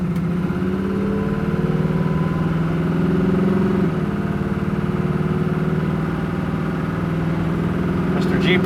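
A 1969 Chevrolet Camaro SS cruising on a highway at about 60 to 65 mph, with a steady low engine drone and road noise that hold even and continuous throughout at close range.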